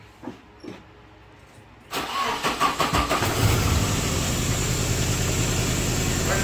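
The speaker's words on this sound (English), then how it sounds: "she cranked right up" A Nissan 240SX cranks briefly after a couple of faint knocks, then fires and settles into a steady, loud, close idle that continues to the end.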